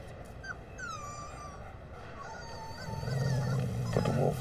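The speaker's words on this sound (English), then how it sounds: "It's a puppy. Not a puppy. A wolf." A wolf pup and its protective mother in a comedic car commercial: high whimpering, whining cries rise and fall over a steady low rumble, which swells louder in the final second and a half.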